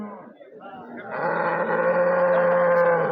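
A cow gives a long, loud moo at a cattle market in Kashti, swelling and holding steady, with muffled voices in the background just before it.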